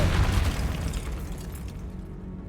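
A Depulso spell blast from the video game Hogwarts Legacy lands as a loud, booming burst right at the start and then rolls off into a fading rumble, with no voices over it.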